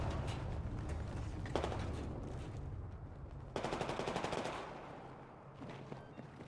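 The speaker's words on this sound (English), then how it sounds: "just going to see a lot of infantry firing around this Titan" Infantry gunfire crackles around a Titan in Battlefield 4, a steady spread of mid-distance rifle and machine-gun fire with two sharper bursts standing out, under a continuous low battlefield rumble and no speech.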